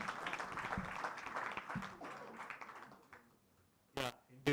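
Audience applause for a conference panel on delivering democracy, a dense patter of clapping that fades over about three seconds, followed by a brief voice.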